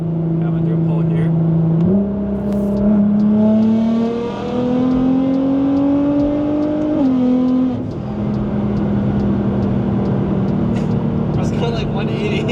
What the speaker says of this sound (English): you got your turbo noises, and you also got a lot of transmission clunking noise